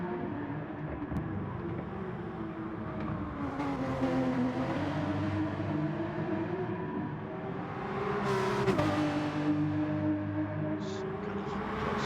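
Porsche race cars in a Gran Turismo-style league race at Autodromo de Interlagos, engines droning and shifting pitch as they rise and fall through gears, a continuous close mechanical roar with a faint commentator voice underneath.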